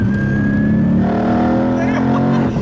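A loud twin-turbo Mustang GT engine with exhaust cutouts open revs and holds a throaty, droning roar with a rising whine, close by and continuous throughout.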